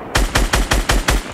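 Gunfire in Fortnite Battle Royale rings out as six loud, evenly spaced shots in a rapid rhythmic burst, each a heavy booming report, with no talk.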